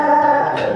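A 12-day-old puppy makes a sustained, tonal whimpering whine, close by and fairly loud, wavering slightly in pitch.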